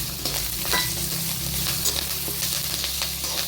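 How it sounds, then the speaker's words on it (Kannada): Curry leaves frying in a hot pan while Bisibele Bath spice powder is roasted, a steady close sizzle with bright crackles and occasional stirring scrapes throughout, no talking. "ನೆಕ್ಸ್ಟ್ ಕರ್ಬೇವಿನ ಸೊಪ್ಪು ಹಾಕ್ತಾ ಇದ್ದೀನಿ."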